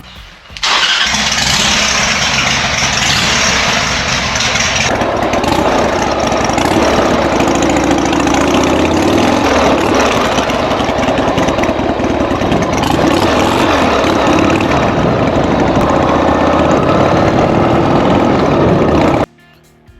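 A cheap Harley-Davidson motorcycle fires up and settles into a loud, steady idle close by, its rumbling engine running continuously before cutting off near the end.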